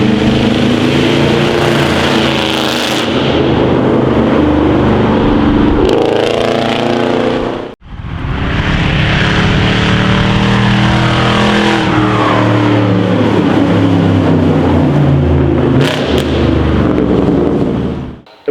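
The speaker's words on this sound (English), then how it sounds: "it's got the big loud exhaust" A loud car engine revs hard with a booming exhaust, rising and falling in repeated pulls, briefly cutting out before roaring again.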